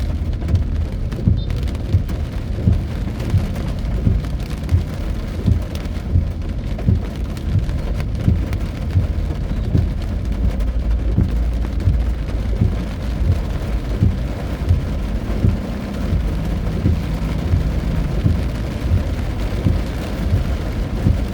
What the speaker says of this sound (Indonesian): Hujannya awet, macetnya juga awet.